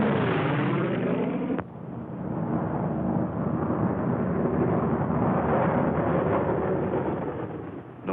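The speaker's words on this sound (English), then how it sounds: "more bombs." Heavy bombs exploding in the World War 2 film Thunderbolt, heard as a dense, continuous roaring rumble that fills the whole stretch, with one abrupt shift to a deeper, sustained blast wash early on.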